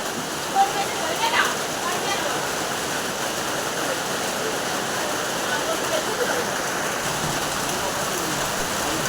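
Steady, dense rain with wind roars across the whole stretch, a broad continuous wash with no breaks, heavy and close.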